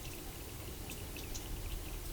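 Water from a mountain spring in the Pindus Mountains of Greece runs and pours steadily nearby, a continuous close splashing trickle with no voices.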